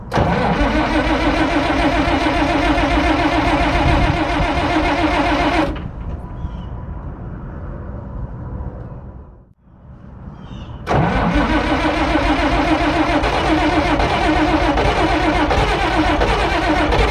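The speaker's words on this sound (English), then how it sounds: "I guess we're going to start the old TD6, pull this truck up where it's level." Old International TD6 tractor engine cranking and running: a loud, steady mechanical roar close by, a sudden drop to quiet for several seconds with a brief sputter, then the engine roars back up at full strength.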